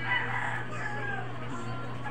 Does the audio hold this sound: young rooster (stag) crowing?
yes